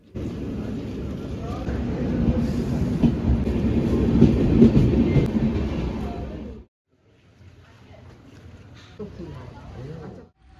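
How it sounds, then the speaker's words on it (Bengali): A train rumbles into Kishanganj station, a loud steady rolling clatter of wheels on rails that stops abruptly, leaving quieter platform ambience; speech is heard over it. "কিষানগঞ্জে যখন ট্রেনটা ঢোকে তখন আমরা এক ঘন্টা ডিলেড"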